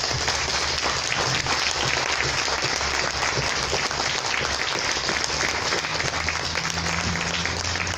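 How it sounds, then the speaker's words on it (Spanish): Sustained applause from a church congregation fills the space, dense and steady for several seconds at fairly close range with a faint murmur of voices underneath. "Démosle un aplauso al Señor"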